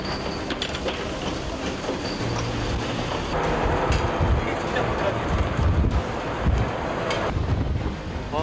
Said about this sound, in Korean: 파도가 배를 덮칩니다.